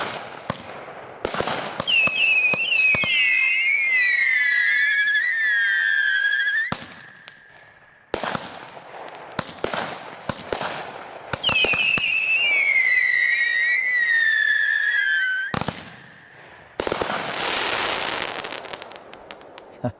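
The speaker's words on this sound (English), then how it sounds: "Next up is our top selling finale repeater from Fire Factory last year, High Noon, an 8-1 22-shot." High Noon, a Fire Factory 22-shot finale repeater, fires in two long volleys of loud whistling, rising shells with sharp bangs, a short pause between them and a crackling burst at the end.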